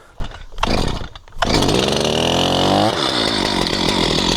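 Chainsaw, recently sharpened by a professional logger, revving up and cutting through a poplar log about 17 inches across, loud and close with a steady engine drone under load.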